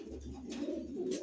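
Gola pigeons in a cage give soft, low cooing calls, a few close murmured coos repeating over a second or so against quiet background.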